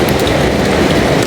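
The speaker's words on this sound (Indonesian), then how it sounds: "Hujan." Steady rain pours loudly and continuously on surfaces, a dense hissing patter close by with no breaks and no talking.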